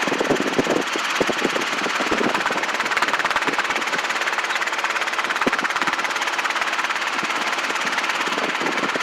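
A Robinson R22 helicopter engine runs steadily at a flight academy, a loud continuous mechanical drone with a fast rhythmic chop that holds evenly for the whole stretch, with no voices.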